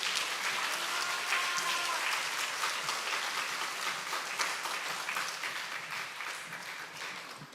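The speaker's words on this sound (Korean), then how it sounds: "우리 나오실 때 큰 박수로 환영하겠습니다." A church congregation at a Wednesday prayer service applauds to welcome a missionary speaker, a dense sustained roomful of clapping that continues for several seconds and then gradually fades.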